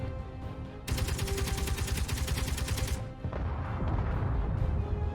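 Rapid automatic gunfire in the video game Space Engineers, a dense sustained burst of loud shots lasting about two seconds, set among other game noise and rumble before and after.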